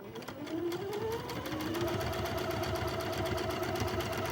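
A sewing machine runs a quarter-inch seam joining quilt pieces. After a short start it settles into a close, steady, fast whir with a continuous rhythmic needle clatter that keeps going to the end.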